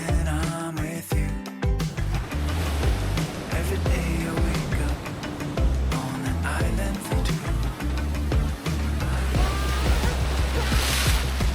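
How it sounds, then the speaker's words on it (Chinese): Rough sea waves break on a beach at Nusa Penida, Bali, with a loud, continuous rushing surf, repeated crashing swells and some wind over the shore. "可以暂时享受这种汹涌而美丽的海浪"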